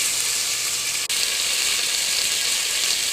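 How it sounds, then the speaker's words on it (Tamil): Onions and curry leaves with fennel seeds frying in oil in a kadai for crab curry, a loud, dense, continuous sizzle close up, with one brief dip partway through. "கருவேப்பிலை வெங்காயம் போட்டு நல்லா பொன்னிறமாக வதக்கிக்குங்க."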